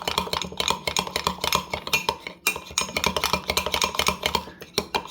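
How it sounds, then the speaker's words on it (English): A spoon stirs ground acacia confusa powder into cold cream in a dish, making dense, rapid clinking and scraping against the container in a steady, busy rhythm, close and fairly loud with no talk. "Make sure it's all stirred in."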